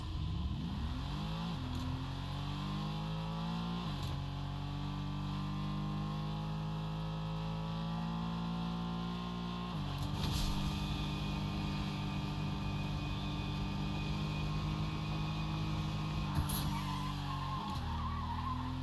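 A car drives in a video game wearing a South Park collab decal, its engine droning steadily with rising revs that drop at a few gear shifts, loud and continuous with no talking.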